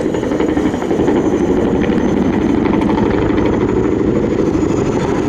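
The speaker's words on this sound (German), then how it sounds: "generating that distinctive sound of Chinook rotor blades" Loud, steady Boeing-Vertol CH-47 Chinook tandem-rotor helicopter noise with a deep, rhythmic thudding chop and engine roar, continuous and close throughout, at an air show.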